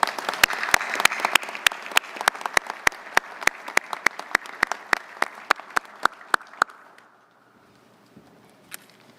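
Applause from a luncheon audience at a naval awards event, steady clapping from many hands with sharp individual claps up front, fading out into near quiet after about seven seconds.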